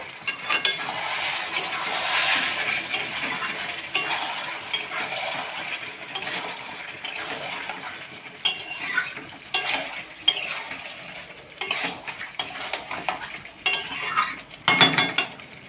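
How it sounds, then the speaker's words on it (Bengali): Chicken and potato curry stirred in a pan after the lid comes off, loud continuous sizzling with frequent metallic scrapes and knocks of a spoon against the pan, close and busy throughout. "এই যে ঢাকনাটা খুলে নিলাম, একটু নাড়াচাড়া করে"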